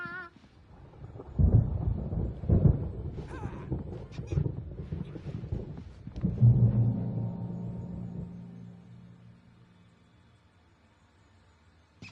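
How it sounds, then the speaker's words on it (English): Thunderstorm in the Alan Wake video game, with heavy rumbling thunder rolling in loud bursts near the start and again midway, then fading into a low, steady storm drone. "There's a storm coming. Oh, what a storm."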